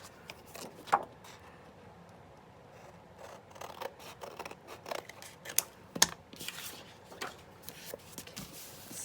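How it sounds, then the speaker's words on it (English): Scissors snip through paper for a collage envelope journal, with a string of quiet, close cuts and a few sharper clicks of the blades closing at an unhurried pace. "I'm going to cut that out now real quick."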